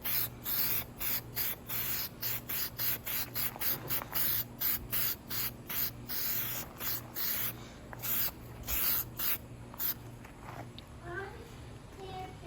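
Repeated short bursts of an aerosol can spraying clear coat onto a restored car headlight, about a dozen hissing pulses in steady rhythm, close and fairly loud, with a faint bit of movement toward the end.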